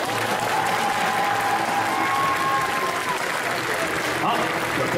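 A crowd at a Sunday cosplay contest at Festival Yggdrasil Indoor 2020 claps for a cosplayer, giving a steady, even burst of applause that sounds somewhat distant and soft and lasts throughout.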